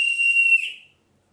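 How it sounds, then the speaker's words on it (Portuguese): A single sustained whistle blast, loud and close, holds steady for under a second before trailing off into silence. "eles escutaram um apito"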